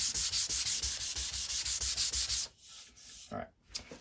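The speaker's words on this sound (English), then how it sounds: "when I'm sanding." Wood sanded by hand along the grain, a steady run of rhythmic abrasive strokes, close and loud, for about two and a half seconds before it stops, then a few faint soft rubs and handling noises follow.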